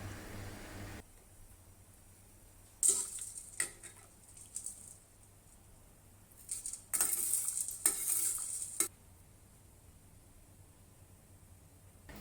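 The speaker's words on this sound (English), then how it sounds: "Heat the tea over low heat and stir it lightly to dissolve the rock sugar." Osmanthus tea with rock sugar warming over low heat, stirred lightly with a utensil: a few scattered scrapes and clinks against the pot, including one longer stirring stretch, with quiet gaps between and a faint steady hiss underneath.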